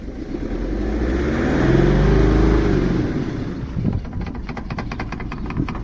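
A BMW E65 with a 4.4 litre diesel V8 revs up from idle, the engine note swelling to a loud peak and easing back, followed by a rough idle with a rapid ticking clatter, close by.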